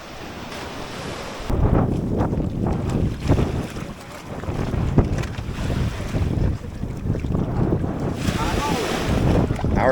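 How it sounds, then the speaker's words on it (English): A chartered boat motors at sea off Isla de la Plata near Puerto López, Ecuador, on a cold, overcast day, with heavy wind buffeting the microphone over the continuous rush of waves and hull noise. "Our guides are now loading us back into our chartered boat"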